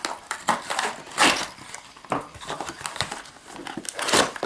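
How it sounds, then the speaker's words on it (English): Plastic packet of an Aqua Dragon toy being unwrapped by hand, a steady close crinkling and crackling that comes in repeated bursts for several seconds. "So I'm just going to unwrap this."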